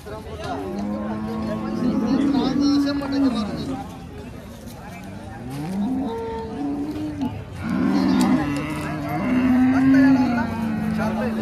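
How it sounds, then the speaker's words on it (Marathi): Cows low repeatedly at a Kopargaon cattle market, long deep moos rising and falling close by, with a steady background of crowd murmur and trader talk. "गाई."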